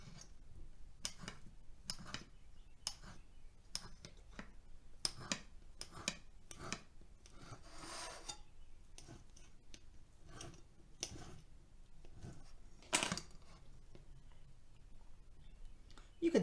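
A breakfast sausage is cut into small pieces on a board, a series of close, crisp knife clicks and taps in an irregular rhythm with quiet gaps between them.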